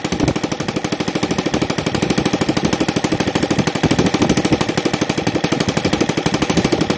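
Small NGH FG-38 four-stroke model airplane engine with CH ignition, timed to 30 degrees BTDC, running steadily at a fast, even putter with a constant rapid firing rhythm, loud and close, no talk.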